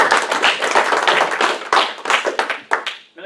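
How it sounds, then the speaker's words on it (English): Audience applause for a first attempt at a spoon demonstration, a dense burst of many hands clapping up close that fades out in the last second. "Give her a round of applause, that's good for a first attempt"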